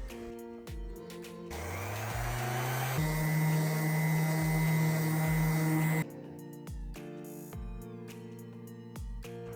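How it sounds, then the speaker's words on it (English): A power sander works a stained cabinet with 80-grit sandpaper, a loud whining motor drone with a gritty scrubbing edge that rises, holds and then cuts off, followed by intermittent tapping and handling noises. "I started off with 80 grit sandpaper"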